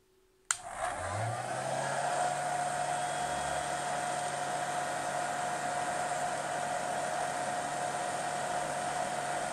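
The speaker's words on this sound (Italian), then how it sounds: "riaccendo il phon" A hot air gun for SMD work switches on with a click and blows with a steady, loud whooshing roar and a faint tonal whine that continues unchanged.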